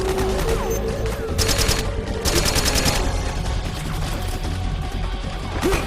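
Rapid bursts of gunfire from Metal Gear Solid 4: Guns of the Patriots, with dense repeated volleys and crashes layered over a constant loud battle din, two bright bursts standing out early on.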